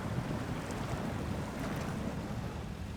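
A heavy truck ploughs through a deep puddle of water in the off-road driving game SnowRunner, with a constant, loud, broadband rush of splashing water over the engine's low drone and no talk.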